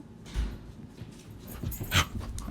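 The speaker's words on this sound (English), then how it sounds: "my dog just jumped onto the bed" A dog jumps onto a bed: a soft thud and rustle of bedding early on, then a second heavier bump with shuffling, close by, with no talking.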